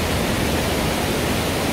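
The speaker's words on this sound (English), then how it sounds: "So there's the waterfall around the corner." Small waterfall at Klong Yai Kee on Koh Kood, a steady, dense broadband rush of falling water, loud and unbroken with no talking.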